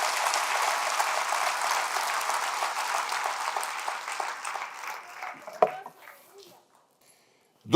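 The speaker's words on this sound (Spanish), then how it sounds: "Denle otro aplauso al Rey bendito." A church congregation applauds in a steady, dense wash of clapping that gradually thins and fades out, with a few last scattered claps at the end.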